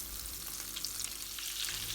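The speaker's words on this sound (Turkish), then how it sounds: "Yumurtaya buladığımız köfteleri kızdırdığımız yağa tek tek diziyoruz." Bright, crackling sizzle of egg-coated meatballs frying in hot oil, steady and close throughout with small pops scattered over the hiss.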